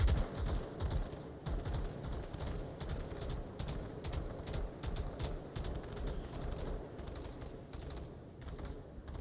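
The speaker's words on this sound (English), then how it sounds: "Oh, has heard a gunshot." Gunfire in the VR shooter game Onward, dense rapid bursts of shots crackling continuously throughout, loud and close with no talk.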